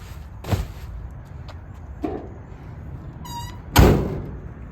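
Door of a 1964 Buick Wildcat convertible opening with a click and a light rattle, then swinging shut with a solid, close thunk near the end.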